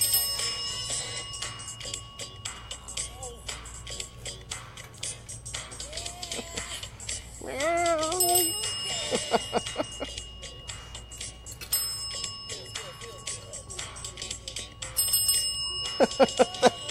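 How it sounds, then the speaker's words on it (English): Repeated dings of a small bell rung by a cat ring in a steady pattern with a meow-like sound midway, over a low background hum. "That cat just rang that bell on the beat."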